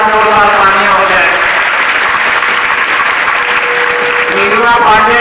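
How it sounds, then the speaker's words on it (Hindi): An audience claps loudly and continuously at a local event honouring a taekwondo trainer, with dense steady applause filling the whole stretch. "उनके लिए एक हाथ जोरदार तालियां हो जाए।"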